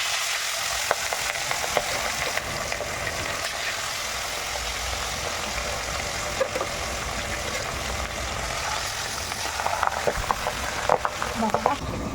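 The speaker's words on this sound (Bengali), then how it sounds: "ডুবা তেলে মাছগুলো ভেজে নিচ্ছি তাড়াতাড়ি ভাজা হয়ে যাবে" Fish pieces fry in deep oil with a loud, continuous close-up sizzle and crackle, occasional stirring clatter and a low engine-like rumble underneath.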